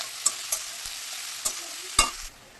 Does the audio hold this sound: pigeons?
no